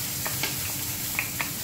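Onion and garlic sizzle in hot cooking oil in a pan, a steady, loud, close frying hiss with a few faint stirring ticks and no talk.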